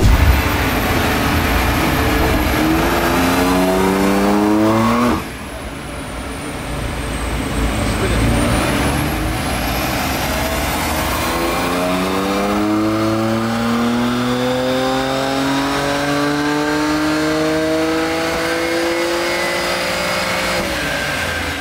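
A BMW M3 on a dyno run revs hard through rising sweeps, pausing briefly before climbing again in long, loud accelerating pulls, the engine note close and dominant throughout.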